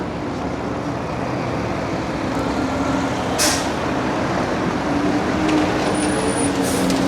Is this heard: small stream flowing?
no